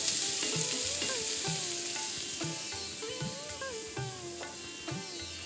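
Potatoes sizzle steadily in a pan, with a continuous frying crackle and repeated scrapes and clinks of a spatula stirring them throughout.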